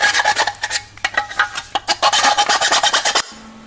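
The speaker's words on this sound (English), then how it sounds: "So I'm just getting the burrs off." A file rasps back and forth over the edge of a Classic Mini van rear valance panel, removing burrs in quick, rhythmic close strokes that stop abruptly near the end.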